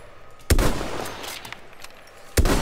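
Two sharp, loud gunshots in the video game Battlefield 1, spaced about two seconds apart, each with a short rumbling tail and no talking.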